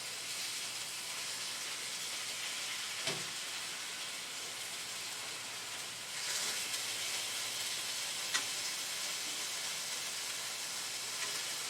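Chicken breasts frying in an oiled pan give a steady, even sizzle and hiss throughout, a little louder in the second half, with a few faint pops and clicks on top.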